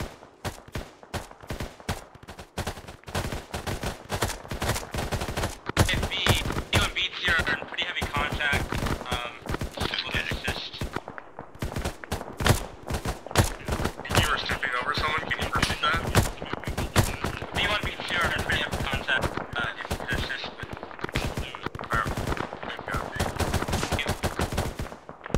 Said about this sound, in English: we're getting incoming fire.